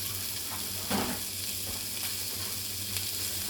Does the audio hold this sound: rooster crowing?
no